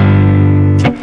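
A single fast, short guitar strum made with a quick wrist flick cuts off a ringing chord, giving a brief bright scrape after sustained tones.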